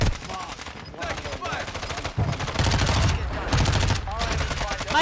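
Rapid bursts of video game gunfire crackle in quick automatic volleys, loud and dense, with brief gaps between strings of shots and faint game sounds underneath.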